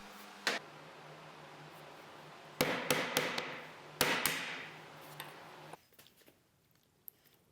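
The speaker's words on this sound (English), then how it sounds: "I do that with a beater chisel and a hammer" Several sharp hammer blows on a beater chisel cutting waste from wood for a kumiko panel ring out against a low background hum, scattered single strikes and a quick cluster, with a faint tick near the end.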